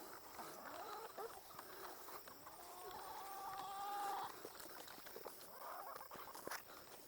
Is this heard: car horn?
no